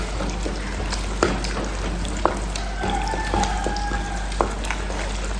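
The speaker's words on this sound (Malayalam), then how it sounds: "ഇനി നമുക്ക് നല്ലോണം മിക്സാക്കി കൊടുക്കാം." Spice masala is stirred in a hot pan, a low steady sizzle broken by occasional sharp clicks and scrapes of a spoon against the metal, close up and without speech.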